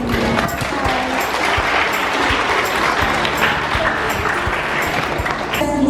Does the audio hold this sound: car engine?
no